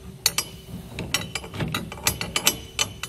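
A hand ratchet clicks in short, quick bursts while tightening a clamp bolt for a ladder rack on the bed rail of a 2017 Chevrolet pickup, with close, crisp metallic ticks and pauses between strokes.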